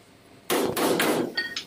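Several sharp metallic blows strike a damaged car bumper while it is being pulled into alignment, three loud close hits in quick succession followed by a lighter ringing clank.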